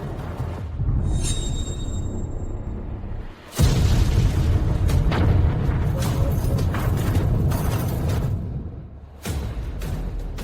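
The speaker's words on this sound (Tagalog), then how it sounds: "Sumabog ang puntod." A tomb blows apart in a loud, sustained explosion: a sharp blast onset followed by seconds of roaring, crackling debris and rumble, with a second burst near the end, no talking.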